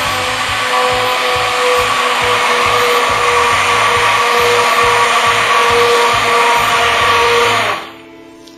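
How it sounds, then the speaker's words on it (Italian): An immersion blender whirs steadily while mixing homemade soap, a loud continuous motor drone with a faint rhythmic churning underneath that runs for nearly eight seconds before shutting off. "attenzione a non sollevare mai il frullatore mentre è in azione"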